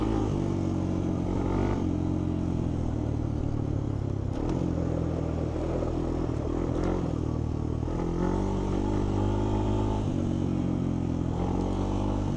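Honda TRX250X ATV engine on a test ride, buzzing loudly and steadily with repeated throttle rises and dips, plus occasional clatter and scrapes from rough ground.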